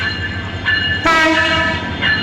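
The Noakhali-bound Upakul Express, hauled by locomotive 3004, at Laksam station: a loud, close horn blares in sustained tones over the rumble of rolling wagons.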